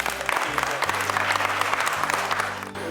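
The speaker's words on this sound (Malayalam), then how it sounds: "അലക്സ് സാറിന് ഒരു കൈയടി കൊടുക്കാമോ നമുക്ക്?" An audience at a Christmas gathering claps for Alex sir, a dense burst of applause lasting a few seconds, with low background sound beneath the clapping.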